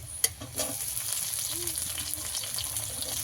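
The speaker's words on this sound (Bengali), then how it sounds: "কুচিয়ে রাখা আদা রসুন সব কিছু ভালো করে ভেজে নেব" Chopped ginger and garlic frying in a pan, a continuous close sizzle with a few sharp utensil clicks near the start, moderately loud and steady throughout, with no speech.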